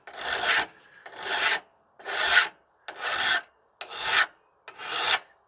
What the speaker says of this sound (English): we're going to just take the file and go along in that bevel